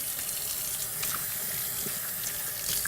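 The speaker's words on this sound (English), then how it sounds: "Anytime you handle raw meat, you need to wash your hands with soap and hot water" Tap water runs steadily into a kitchen sink while hands are washed with soap and hot water, a continuous close hiss and splash without speech.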